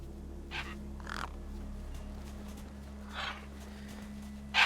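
Crows caw in short, separate calls over a steady low droning ambience in the video game Beyond a Steel Sky, where the birds gather over a corpse; a louder final call closes the sequence.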